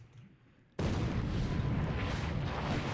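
Brooklyn-class cruisers fire their naval guns in the video game War in the Pacific, a quiet moment cut off by a sudden, loud, sustained roar of rapid gunfire that continues to the end.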